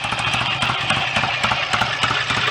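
A BSA A65 twin motorcycle engine runs close by during a strobe ignition timing check, a loud, busy mechanical clatter with rapid regular firing pulses.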